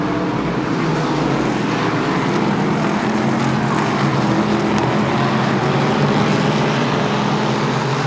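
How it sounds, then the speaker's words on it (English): Valenti Modified race cars lapping the high-banked quarter-mile Monadnock Speedway, their engines making a continuous loud roar that holds steady as the cars circle the track. "Rapidly clicking off laps here around the high bank, the quarter-mile Monadnock Speedway"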